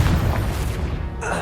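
A Confringo spell explosion in Hogwarts Legacy lands as a single loud, booming blast that fills the moment and tails off quickly.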